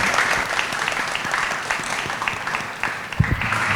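Audience applause for the panelists at a panel discussion on blockchain for social good, a dense steady clapping from a full room, fairly close and even throughout with a brief louder burst near the end.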